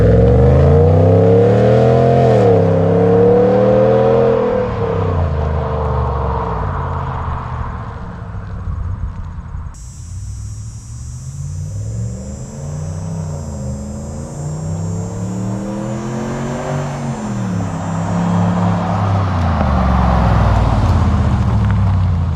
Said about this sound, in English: that's a straight pipe Dodge Ram for you